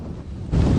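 Gale-force wind at sea of about 42 mph with gusts to 51, roaring across the microphone aboard a MacGregor 26 sailboat, a dense rushing noise that surges louder partway through.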